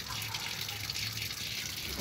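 Water flows steadily and close up from a solar water heater pipe after cleaning, a continuous even rush with no breaks.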